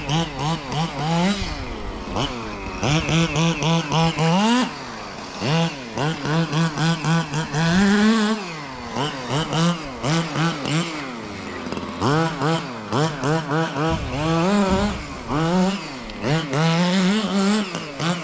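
A nitro-fuelled FG Marder 1/6-scale RC buggy engine runs in short bursts, its high buzzing two-stroke note repeatedly revving up and dropping back with rapid pitch sweeps, close and loud throughout with no talking.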